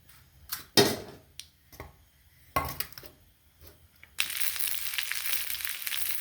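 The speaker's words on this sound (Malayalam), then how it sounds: "നമ്മൾ കടുക് ഇട്ട് കൊടുക്കുകയാണ്." Mustard seeds go into hot oil to temper a Kerala-style green peas curry: a few light clinks and taps, then a sudden loud, steady sizzle that carries on to the end, with no voices.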